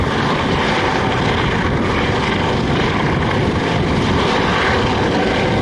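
A Coast Guard helicopter lifts off at a military open-house airshow at Joint Base McGuire-Dix-Lakehurst, its engine and rotors making a loud, close, unbroken roar.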